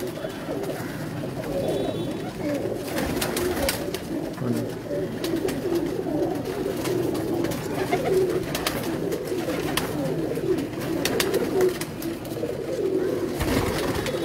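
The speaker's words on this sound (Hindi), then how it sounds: "ये कबूतर सामने जो है, ये जो जा रहा है" Pigeons from a breeder's loft cooing steadily and close by, a continuous layered murmur of low throaty calls with occasional wing flutters and a few other bird sounds mixed in.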